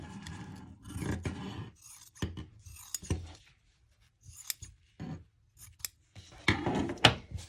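Scissors snip through spandex fabric while cutting out pattern pieces for a handmade Squishmallow plush, giving a quiet, irregular series of close crisp cuts and rustles with short pauses between them.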